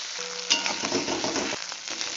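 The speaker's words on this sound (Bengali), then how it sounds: "আবারও ভালো করে নাড়বো।" Onion and ginger paste frying in hot oil while being stirred, a steady close sizzle with scraping spoon strokes through the middle, no talking.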